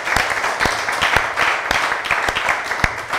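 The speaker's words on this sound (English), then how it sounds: "give David another round of applause" An audience at a tech showcase claps for a speaker, a steady patter of many hands with a few sharper individual claps standing out, close and continuous with no voices.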